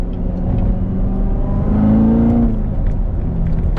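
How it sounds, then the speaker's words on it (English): A 2019 Chevrolet Corvette C7 Z06 engine revs up with a rising high-pitched supercharger whine riding over the motor, peaking briefly then easing back, loud and close. "Oh, you can hear that supercharger whine."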